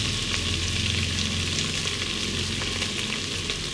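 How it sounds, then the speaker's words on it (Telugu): Sliced onions fry in oil for chicken biryani, a steady dense sizzle running unbroken and fairly loud from start to finish with no voices. "ఈ ఆనియన్స్ చాలా బ్రౌన్ కలర్ వచ్చేదాకా వేయించుకోండి"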